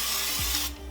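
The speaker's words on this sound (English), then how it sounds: "you want to spray your pan with some spray" Cooking spray hissing onto a baking pan before lining it with parchment, a short close steady hiss over a low mechanical hum that cuts off near the end.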